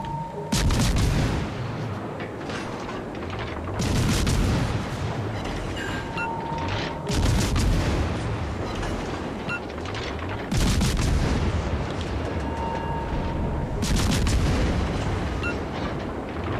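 Main guns of the Musashi battleship firing in World of Warships: Legends, four heavy booming salvos spaced a few seconds apart, each followed by a long rumbling roar that fills the gaps.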